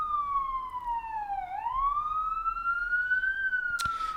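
An ambulance siren wails past, its tone sweeping down and then climbing slowly in a long continuous cry that sounds close and loud, with a brief sharp noise near the end.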